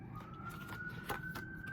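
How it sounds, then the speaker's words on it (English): An emergency vehicle siren passes in the distance, a faint steady wail rising slightly in pitch, heard over a low background hum with a few soft bird chirps. "Whenever the sirens come through my readings"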